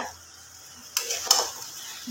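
Mutton being stirred and fried in a cooking pan at home, giving a faint sizzle with two short scraping stirs of a utensil against the pan.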